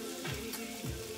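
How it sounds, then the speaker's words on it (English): A steak sizzles in a hot pan, a low steady frying hiss heard alone, with two soft swells in the sizzle. "I gotta fry down my steak"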